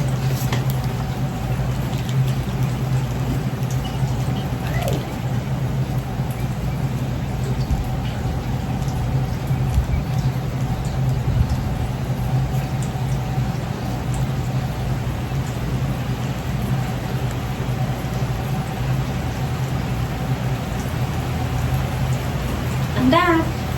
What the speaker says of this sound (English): I'm gonna go out in the rain.